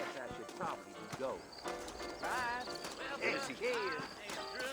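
A horse's hooves clip-clop in an outdoor video game scene, with crickets chirping and a horse whinnying briefly. Music and voices run over the hoofbeats.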